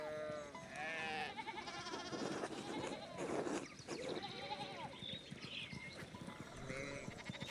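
Sheep in the medieval game Pentiment bleat repeatedly and overlap in a busy, steady farmyard bed, with several animals calling at once over faint background ambience.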